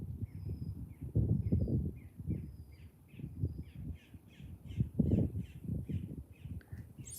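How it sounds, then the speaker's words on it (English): Birds call repeatedly in a noisy cluster at Lake Okeechobee, with harsh crow-like caws and squawks repeating over several seconds, fairly close, over a low rumbling outdoor background. "So I believe it's these birds over here having a big conversation."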